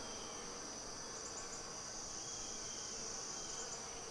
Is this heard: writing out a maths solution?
no